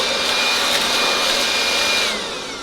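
A cordless mini leaf blower rated at 20,000 RPM runs with a steady, loud, close rushing whine of air, easing off slightly at the very end.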